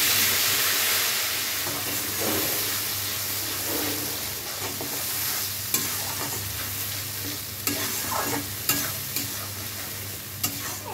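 Masala sizzles and fries in a hot pan while being stirred, a continuous hissing crackle with scraping stirs and a few sharp clinks of the spoon against the pan.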